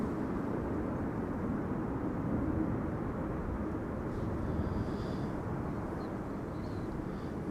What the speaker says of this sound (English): This is KLM flight 1918, arriving from Zurich, Embraer 190.